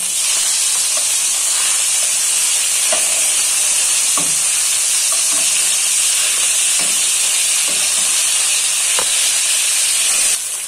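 Fish frying in a pan for a bean, potato and tomato fish curry, giving a steady loud sizzling hiss throughout with scattered soft clicks and pops of oil, no voices.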